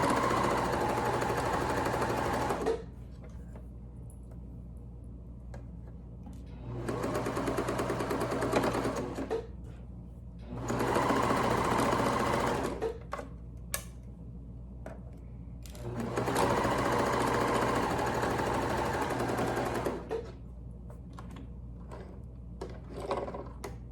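Sewing machine stitching a stretchy neck gaiter mask, running in four bursts of several seconds each, loud and close, separated by quieter pauses with small handling clicks while the fabric is turned.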